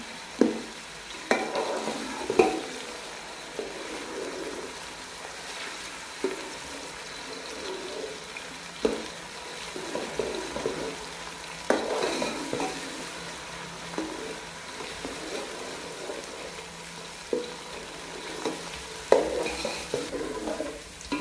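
Onions for chicken karahi frying and browning in a pan, a steady soft sizzle broken by repeated scraping stirs, close and moderately quiet with no one talking.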